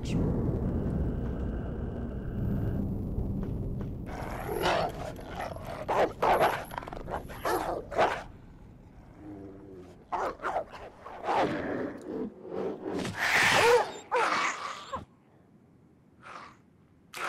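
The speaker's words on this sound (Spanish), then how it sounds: "Es una criatura muy extraña. Ha atacado al perro." A dog barks in the PC survival horror game Alone in the Dark: The New Nightmare, several sharp bursts over eerie low game ambience with thudding sounds, then a creature attacks it; no one talks.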